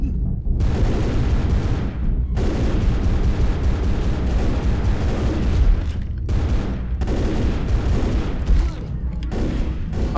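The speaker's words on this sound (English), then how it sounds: "I'm just shooting for no reason because they've got unlimited ammo" Sustained gunfire in the zombie shooter Left 4 Dead, dense loud continuous shooting with brief gaps, close and heavy throughout with other game noise behind.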